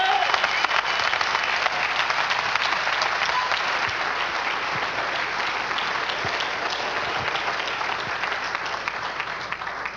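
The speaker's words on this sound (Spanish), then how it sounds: "Denle un aplauso al Señor Jesús." A church congregation applauding at a Spanish-language service, loud, dense clapping from a large crowd that continues steadily for the full ten seconds.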